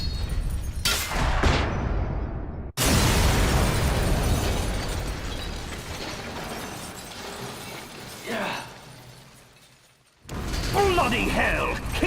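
Metal Gear REX's ray dome being destroyed in Metal Gear Solid, a loud mechanical crash and shattering blast with heavy rumble that cuts off abruptly, then a long roaring explosion, with voices speaking over the noise near the end.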